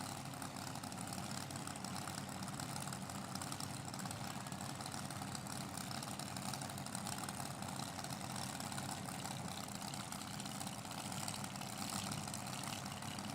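At a North West Tractor Pulling Club event, a pulling tractor's engine idles with a steady, dense, continuous rumble that holds at an even level throughout, heard from a distance with no talk.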